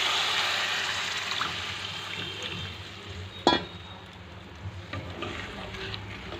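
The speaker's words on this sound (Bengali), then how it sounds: "এইবার আমি পরিমাণ মতো জলটা দিয়ে দেব" Water is poured into a pan of sizzling, well-fried spice paste for a prawn malai curry. A soft, steady frying hiss is broken by a sharp splash and a brief surge of bubbling, then quieter simmering.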